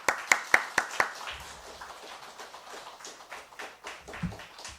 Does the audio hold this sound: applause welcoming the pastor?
yes